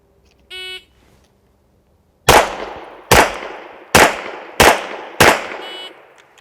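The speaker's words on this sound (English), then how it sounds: "on the signal to fire, I'm firing 5 rounds into the body from that distance" A shot timer beeps once, then five pistol shots ring out at a steady pace from 15 yards, each a sharp, loud crack with a short decaying tail, no talking.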